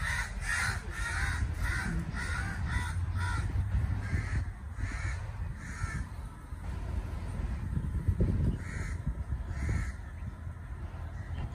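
A large flock of crows caws repeatedly in Riyam Park, harsh calls overlapping in quick rhythmic bursts, some near and loud, others farther off, over steady wind noise on the microphone, no talking.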